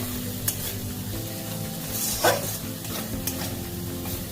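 Spice paste being fried in oil for an egg poach curry, a steady soft sizzle with faint stirring scrapes and a brief louder hiss midway, no voices.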